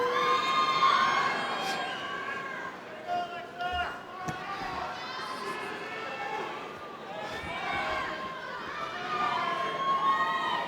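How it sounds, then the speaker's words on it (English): A crowd of graduates and guests at a University of Miami undergraduate degree ceremony cheers and shouts steadily, a broad energetic roar with scattered whoops that swells near the start and again toward the end. "What an energized crowd."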